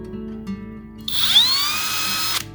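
A power drill with a tapered bit spins up to clean out drilled holes, whining steadily for about a second and a half, then stops; a brief, close, high-pitched burst with no talking.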